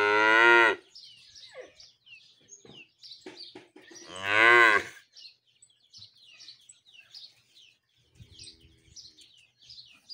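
Calves mooing on a farm, two loud, drawn-out moos several seconds apart over a bed of small bird chirps, with quieter shuffling noises in between.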